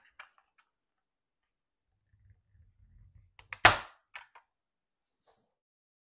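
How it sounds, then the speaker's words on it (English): A staple gun fires a single sharp snap as a staple drives through fabric into a homemade table-top ironing board, preceded by soft handling rustles and followed by a few small clicks. "I'm going to start here in the middle and put my first staple in"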